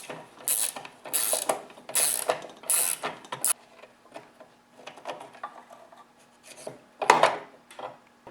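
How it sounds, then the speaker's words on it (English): A ratcheting wrench loosens a 1/2 inch bolt and nut on a Cub Cadet MTD snowblower's chute-tilt mechanism: several close, quick rasping clicks in short bursts, then quieter scattered handling and a final clicking burst. "I'll use a ratcheting wrench."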